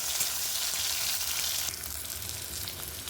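Shrimp, onion and chopped jackfruit seeds frying in hot oil with garlic and chili, a steady, loud, close hiss of sizzling that continues unbroken and drops slightly partway through.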